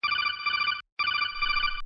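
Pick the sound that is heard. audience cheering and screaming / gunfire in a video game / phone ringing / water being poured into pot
phone ringing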